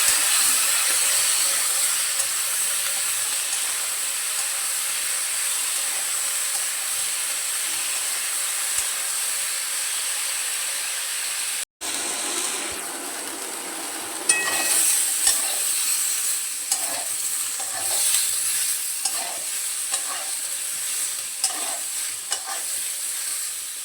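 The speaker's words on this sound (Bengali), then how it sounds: "আলু বেগুনটাকে লাল করে ভেজে নেব।" Potato and eggplant pieces with salt and turmeric fry in a pan, a steady sizzle that grows busier partway through as a spoon stirs and scrapes them at irregular intervals, with no voices.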